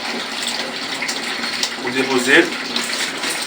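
Water running steadily from a toilet pipe for washing, a constant close hiss of flow with someone talking briefly over it.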